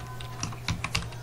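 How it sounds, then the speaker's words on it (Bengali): An email address typed on a computer keyboard: a quick, close burst of about five or six light, irregular key clicks over a faint background hum. "যেমন আমি আমার ইমেল আইডি লিখে দিচ্ছি টেক দুলিয়ান"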